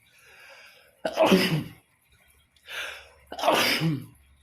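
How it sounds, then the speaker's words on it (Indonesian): Two separate sneezes, each a sharp broadband burst, the first near one second and the second about two seconds later, with fainter breathy sounds between them, heard close and clear with no talking. "Bersin."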